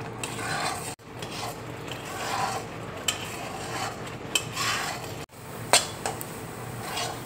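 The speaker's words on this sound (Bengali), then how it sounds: "খুব ভালো করে নেড়ে যেতে হবে," A spoon scrapes and stirs bread crumbs into kalakand milk sweet in a pan, repeated rasping strokes with occasional metallic clinks and a couple of brief pauses.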